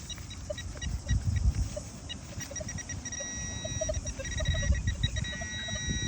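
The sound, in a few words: metal detector signal tone over coin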